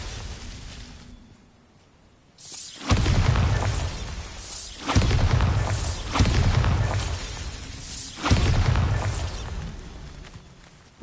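Bombarda spell explosions in the video game Hogwarts Legacy: four loud, heavy blasts land at irregular intervals, each a sharp burst that rumbles and decays, with a quiet stretch before the first.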